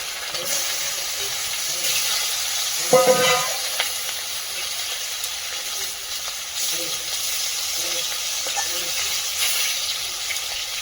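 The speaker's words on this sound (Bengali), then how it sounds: "বাকি মাছগুলো ভেজে নেব।" Fish frying in a pan give off a steady sizzle and hiss, with a brief burst of clatter or stirring near the start and no clear talking.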